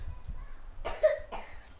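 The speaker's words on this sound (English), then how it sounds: "she just coughed" A single child's cough, fairly close and clear, followed by a brief second cough, with quiet background hum and no talking.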